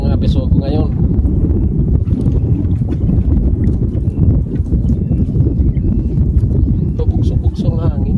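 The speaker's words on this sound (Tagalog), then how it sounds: "Bugso-bugso ng hangin." Strong gusting wind buffets a microphone out on the water during a fishing trip, giving a loud, constant roaring rumble with no clear pauses between gusts.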